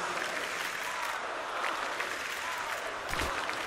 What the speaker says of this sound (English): The crowd is loving this.